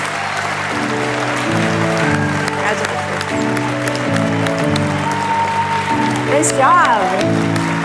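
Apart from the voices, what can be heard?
applause for award winners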